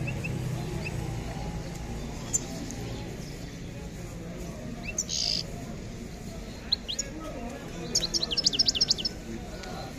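Scattered songbird chirps and tweets, including goldfinches, ring out over a dense, steady crowd hubbub at the Sunday Al Qurayaa bird market, with a quick cluster of calls near the end.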